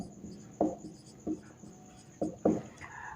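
A pen or chalk writes out an equation, with soft scratchy strokes and a few firmer taps at an uneven pace, close up over a faint steady hum.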